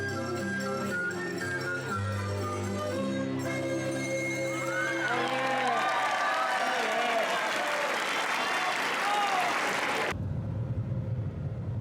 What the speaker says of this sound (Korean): 앙증맞게 박수를 치면서 춤을 추는 아이들이 정말 귀엽다.